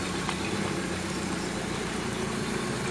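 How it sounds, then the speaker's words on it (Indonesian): A truck engine idles close by, a steady low rumble with mid-range vibration holding even throughout, with no voices over it. "Ada truk."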